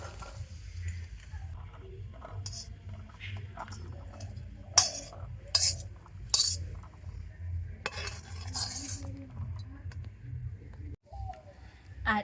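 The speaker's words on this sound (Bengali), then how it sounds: "তো ছাঁকনির মধ্যে ছোলার ডালটাকে এইভাবে দিয়ে দেব।" Boiled chana dal, split chickpeas, is tipped into a metal strainer in a home kitchen, giving scattered metallic clinks, scrapes and soft wet patter over a low steady hum, close by.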